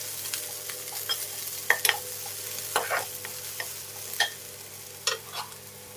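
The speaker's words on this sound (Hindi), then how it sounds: "अच्छी तरह से चम्मच चला देते हैं।" A spoon stirs golden-browned onion and leafy greens frying in a pan for spicy Maggi, giving a faint steady sizzle broken by several sharp scrapes and clinks.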